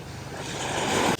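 Ocean waves washing onto Sand Beach in Acadia National Park, a broad steady rush of surf mixed with wind noise that swells slightly before cutting off, with no voices.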